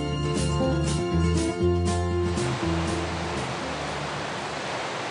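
The Dordogne runs as a channelled mountain torrent through Mont-Dore. Music plays over the water at first, then gives way to a steady, full rushing roar.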